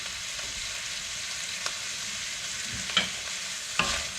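Steak browning in a pan for chili, a steady soft sizzle running throughout with a few brief louder scrapes or stirs near the end.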